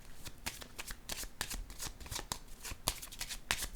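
Tarot cards being handled and laid down on a table, a continuous close riffle of shuffled cards with quick flicks and soft slaps, quiet and steady throughout.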